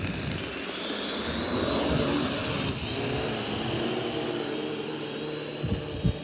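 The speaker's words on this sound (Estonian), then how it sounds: "kui ma nüüd take off ütlen, siis peaks droon õhku tõusma ja jääma siia meid ootama" Drone lifting off outdoors in noticeable wind, a steady loud whirring rotor hum with broadband wind rush that holds throughout, with a brief dip midway and a few low thumps near the end.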